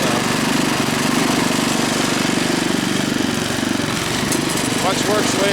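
A 1978 Craftsman 7 hp, 24-inch dual-stage snowblower engine runs steadily and loudly throughout, with a constant close-up drone and faint background noise.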